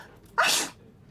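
A single short sneeze from a character in the video game Murder in the Alps, a sharp burst heard alone and fairly close.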